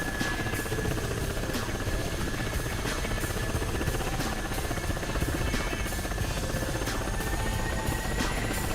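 A helicopter engine in the DCS World flight simulator whines and drones continuously as its rotor spins up, with a steady rhythmic blade chop and a high tonal whine, loud and close.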